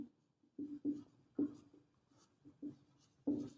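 Chalk or marker strokes on a classroom board during a Class 10 maths lesson, a series of short scratchy bursts with gaps between them, close and moderately loud, with no talk.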